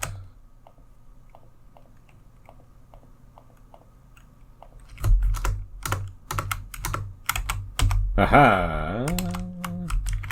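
A computer keyboard clacks near the mic, quiet taps at first, then a burst of louder, rapid keystrokes with a brief spoken interjection over them.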